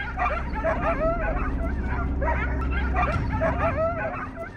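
Hunting dogs on a wild boar hunt bark, yip and whimper excitedly in rapid overlapping bursts, close and fairly loud throughout.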